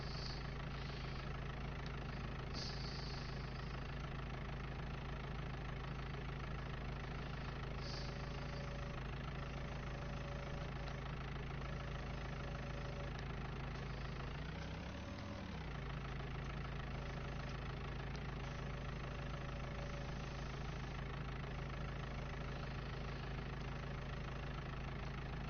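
A tractor engine idles steadily in Farming Simulator 19, a constant low mechanical drone that runs throughout with a brief swell partway through and faint intermittent beeps, no talking.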